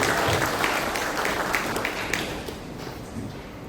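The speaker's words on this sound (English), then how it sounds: "give a very resounding round of applause to the institution" A graduation audience gives sustained applause in a hall, dense clapping that starts loud and slowly fades over a few seconds.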